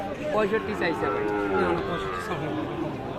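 A Sahiwal bull calf lets out a long, loud moo close by at a cattle sale, its low droning call carrying over faint murmuring voices in the background.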